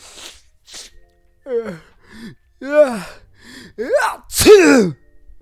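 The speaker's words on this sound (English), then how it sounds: "Immediately after that sneeze happened" A voiced gasping build-up of rising breaths ends in a loud, forceful sneeze, heard close with no other sound around it, the sound of an anime-style movie character.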